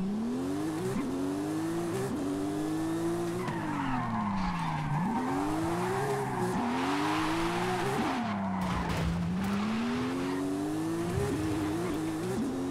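A rear-wheel-drive Porsche Carrera S drifts in a racing game, its engine wailing in long rising and falling sweeps as the revs climb and drop, with steady tire squeal and skidding underneath, loud and close throughout.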